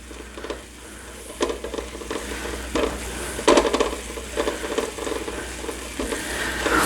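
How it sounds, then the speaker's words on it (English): Garlic sautés in a pan with steak juices for pepper steak, a close sizzle broken by bursts of stirring, spoon scrapes and clinks against the pan. "I think you're sauteing the garlic and the juices and everything"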